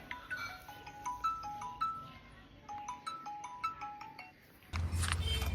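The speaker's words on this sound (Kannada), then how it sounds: "ಫೋನ್ ಬರೋದವು" A phone ringtone plays a repeating electronic melody of bright tones, moderately loud and close, for about five seconds before giving way to a burst of rougher background noise.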